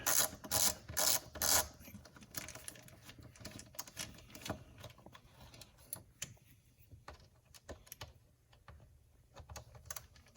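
Two Phillips screws are broken loose on the mass airflow sensor of a Honda Odyssey, heard as faint close clicks and ratcheting scrapes in an irregular pattern, with a few louder clatters at the start.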